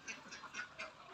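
Faint quacking from ducks on a duck farm comes in four or five spaced bursts, soft and distant with a low background hum.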